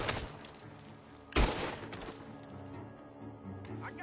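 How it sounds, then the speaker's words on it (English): Gunfire in Red Dead Redemption 2 coming from a barn, with a sharp loud shot cracking out over a dense rumbling background of scattered shots and game noise. "The gunshots are coming from that barn!"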